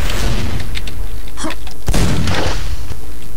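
A gunshot in the shooter game Quake, a sharp loud blast near the middle followed by a brief rumbling tail, over a busy rushing game background with a few smaller bursts.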